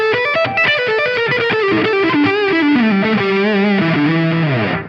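A heavily distorted Cort G300 Raw electric guitar plays a fast, aggressive metal riff, loud and close, ending with a descending bend as the sound cuts off.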